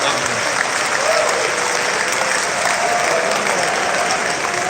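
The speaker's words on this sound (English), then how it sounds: "Give me a round of applause" An audience gives sustained, loud applause at the opening of a professional development workshop in Bayelsa State, Nigeria. The steady clapping fills the whole moment, with a crowd murmur beneath it.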